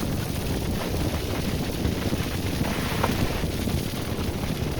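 Strong wind gusting steadily near a spreading forest fire on a forest road at Hasanur and Dhimbam, a broad, continuous roar and buffeting that stays loud throughout with no voices.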